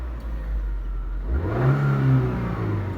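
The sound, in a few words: car engine revving during driving lesson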